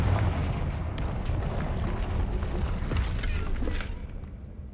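A Confringo spell blast in Hogwarts Legacy, heard as a dense, rumbling burst with creaking, crackling debris that holds steady for several seconds before tapering off.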